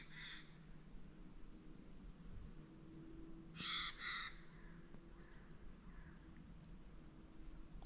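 A bird calls near a river in the Ahja River Valley, two or three harsh crow-like caws ringing out at moderate distance over steady outdoor ambience, with no talking.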